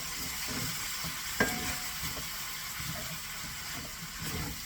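Beef stroganoff, made with fillet of beef strips, is stirred in a pan over a low flame, giving a quiet, steady scraping and soft sizzle with one sharp clink partway through.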